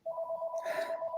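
A telephone rings with a steady electronic tone pulsing in quick rapid bursts, fairly close, and a brief breathy sound partway through.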